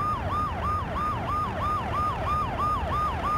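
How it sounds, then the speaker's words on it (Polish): Fire engine siren in the Fire Captain video game, a steady rapid wailing cycle repeating about every third of a second, loud and close with engine rumble underneath and no talk. "Możemy syrenki sobie włączyć."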